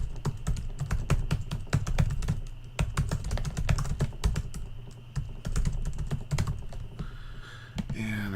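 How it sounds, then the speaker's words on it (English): Rapid, uneven clatter of keys being typed on a computer keyboard, close and clear with no voices, pausing briefly before a final burst of keystrokes. "I'm going to type in my other blog address"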